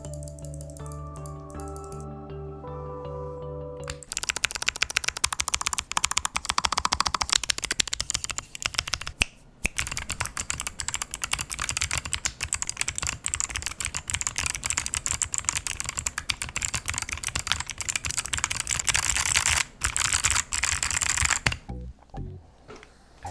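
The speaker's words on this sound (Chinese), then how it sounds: "好，就让我们听听看这支下轴打字音吧。" Rapid, continuous typing on a mechanical keyboard fitted with tactile switches, a dense close-up clatter of keystrokes running for about twenty seconds, with a brief pause midway and no voices.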